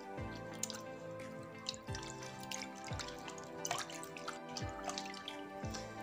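Water runs and drips steadily while skin polish is washed off a hand. Repeated splashes and drips land in a loose rhythm over a constant running-water hiss, close and fairly quiet.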